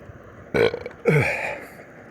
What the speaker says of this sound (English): It might be a pizza burp.